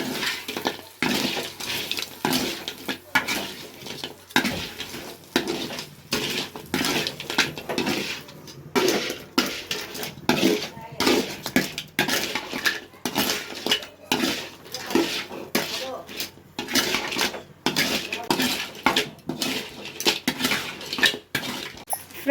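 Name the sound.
field crab sautéing with masala in a pan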